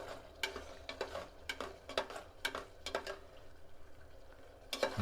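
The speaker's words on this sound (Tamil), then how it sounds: "ஸோ இப்போ நம்ம வந்து சிக்கன் போடலாம்." Chicken goes into a boiling pot of Dindigul-style biryani with a run of sharp clinks, taps and stirring scrapes over a low bubbling sizzle, close up and without speech.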